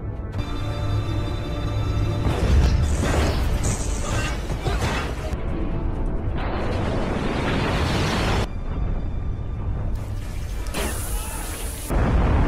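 A submarine strikes a sea mine in a war film, bringing a long roaring underwater explosion with deep rumbling booms, crashes and whooshing surges that stay loud and continuous throughout.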